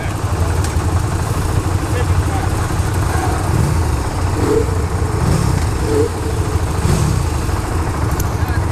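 A 2015 KTM Duke 690 single-cylinder motorcycle engine running on the road, a steady low rumble with wind noise and a rider talking over it throughout.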